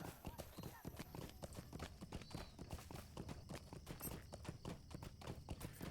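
Rapid hoofbeats of a horse in Lord of the Rings Online clatter in a steady galloping rhythm, continuous and close, with faint game sounds mixed in.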